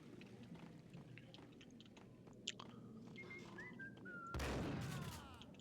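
Faint, brief whistled notes rise and glide over a steady murmur of in-game background noise in the video game Max Payne, followed by a sudden loud noisy burst.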